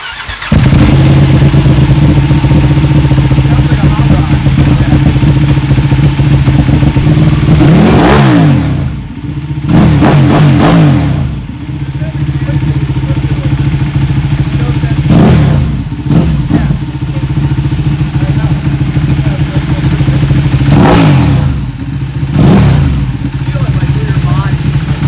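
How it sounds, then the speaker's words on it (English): A carbon-bodied Ducati 1299 Panigale superbike starts and settles into a loud, rumbling idle, with several sharp throttle blips rising and falling across the clip. "I thought I'd start up the carbon Panigale for him."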